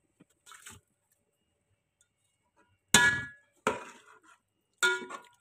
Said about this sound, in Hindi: ये यखनी थी पानी नहीं था ठीक है तो डाल देंगे चावल